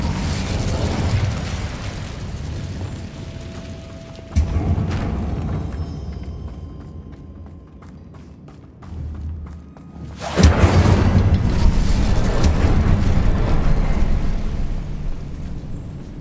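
An Incendio fire spell blasts in Hogwarts Legacy, a sudden booming burst followed by a roaring, rumbling whoosh, then a quieter lull and a second loud surging eruption that sustains to the end, close and heavy with no talking.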